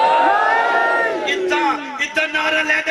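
A crowd of young men chanting a religious slogan in unison at a sermon, loud and close, with sustained voices rising and falling and sharp shouted bursts near the end.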